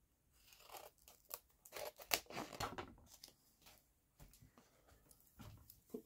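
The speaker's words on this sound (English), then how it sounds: "Just roughly cut out the excess." Excess material being roughly cut away during a blackwood guitar build, a faint close sequence of snipping, crunching and tearing sounds in uneven bursts.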